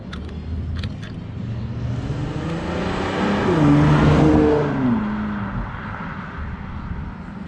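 Subaru GC8 fitted with a new Q60 sport exhaust revs up, engine note climbing to a loud peak around the middle then settling back, close and alone with no talk.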